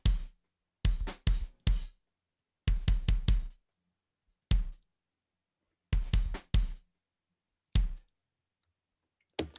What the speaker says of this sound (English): The first track is just the kick drum basically as it was recorded.